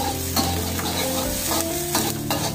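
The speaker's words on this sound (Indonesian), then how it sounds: "Nah, kita aduk." Onions for biryani being stirred in a frying pan, a steady close sizzle with scraping strokes from the spoon and brief clatters, no voices.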